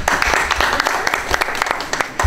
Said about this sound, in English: if you all give a round of applause